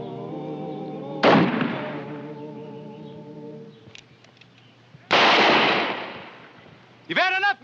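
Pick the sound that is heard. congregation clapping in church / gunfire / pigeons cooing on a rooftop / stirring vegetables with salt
gunfire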